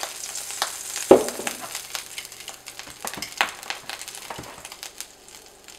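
Pork chops fry in a pan with oil, giving a close, steady crackling sizzle broken by a sharp pop and scattered spits and clatters.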